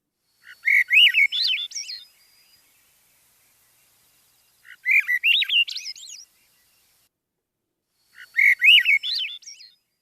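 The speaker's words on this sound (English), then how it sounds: "The visiting Swainson thrush in my backyard brightens the day with its ascending song, similar in quality to the wood thrush, but always rising and fading at the end." A Swainson's thrush sings in a backyard. Three clear, flutey phrases are separated by pauses, each spiraling upward and fading at its close. The song is fairly near, alone against a quiet background.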